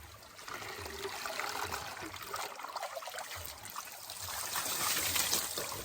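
Water trickling and flowing freely at an outdoor spot on a hot day, a soft continuous splashing dribble, close but fairly quiet, with faint voices in the background.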